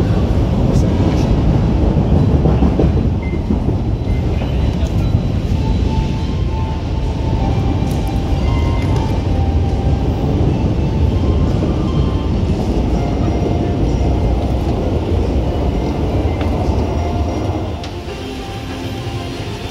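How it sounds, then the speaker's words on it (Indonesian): Loud, steady rumble of an Argo Semeru train standing at a busy station platform on track 4 after just arriving, with broadband noise that eases slightly toward the end. "Argo Semeru sudah berada di jalur 4 ya. Tadi baru masuk sebenarnya."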